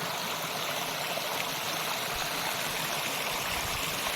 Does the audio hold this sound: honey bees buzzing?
no